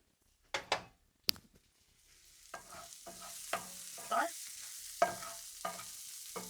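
Mushrooms and onions cook down in a pan, a soft sizzle broken by several sharp knocks and stirring scrapes, faint and close with no talking.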